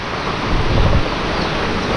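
Strong typhoon wind from Typhoon Tino roars steadily in a loud, broadband rush, swelling into a heavier low gust midway through, with no voices.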